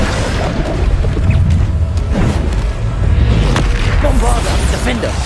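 Repeated Bombarda blasting spells from Hogwarts Legacy go off in a busy game fight, deep booms and bursts layered over constant rumbling action and clashing effects throughout.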